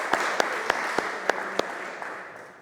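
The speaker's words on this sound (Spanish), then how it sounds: "Les pido por favor un fuerte aplauso para él." An audience at a lecture on the historical context of Don Pelayo's rebellion applauds in a steady wash of clapping, with a few sharper individual claps standing out as it slowly fades.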